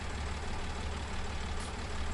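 A steady low idle from a tractor engine in the Farming Simulator 19 game, an even rumbling drone that runs unchanged for the whole short stretch, with no voices.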